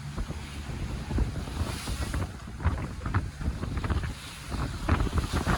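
Rough open sea off French Polynesia heard from aboard a sailboat, with constant wind buffeting the microphone and water rushing and splashing against the hull in uneven surges.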